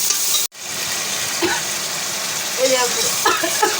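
Koi fish sizzles steadily as it sautés in a pan with cauliflower, potato and tomato. The frying hiss is broken by a brief cut, and a voice talks over it.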